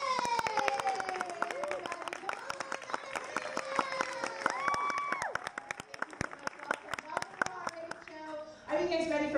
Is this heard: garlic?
no